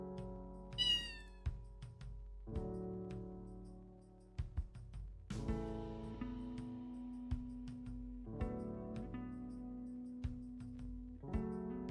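A cat meows several times in separate drawn-out calls, close and clear in a quiet room, with short pauses between them.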